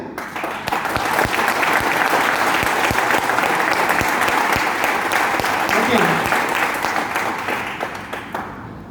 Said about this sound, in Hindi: काफी टाइम से आप लोग तालियां बजा रहे हैं